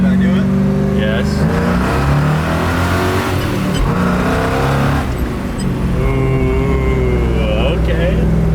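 Engine of a 1967 Chevrolet Camaro revving loudly at a car show burnout contest, a close, rising and falling roar with rough growl, while people talk and shout over it.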